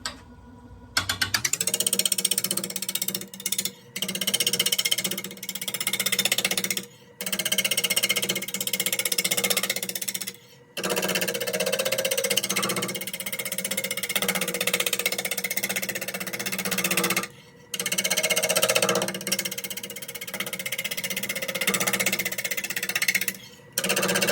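Wood lathe spinning an unbalanced bowl blank at about 500 RPM while a 5/8 inch bowl gouge roughs it out, loud rattling, chattering cuts in repeated bursts separated by short pauses, close and continuous.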